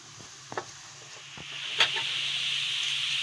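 Grated carrots drop into hot ghee already holding cardamom powder, and a few soft clinks give way to a broad, steady sizzle that rises and holds, close and fairly quiet.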